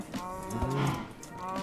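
Minecraft cows mooing close by, a continuous overlapping stretch of low, throaty moos rising and falling over about two seconds with no pause.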